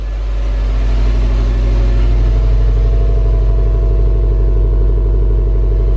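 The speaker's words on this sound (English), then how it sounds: "I'm gonna show you guys what the car sounds like" A 2015 Subaru STI idles steadily, its engine and exhaust producing a loud, close, continuous throbbing drone that holds an even rhythm throughout with no talking.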